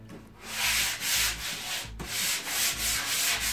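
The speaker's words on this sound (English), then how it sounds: "get some 120 grade sandpaper. And just once again, give it" A wooden dining table is sanded by hand with 120 grit sandpaper, making close, rhythmic rasping strokes back and forth, each stroke a loud even scratch with no talk.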